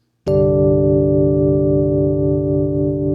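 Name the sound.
piano chord with added second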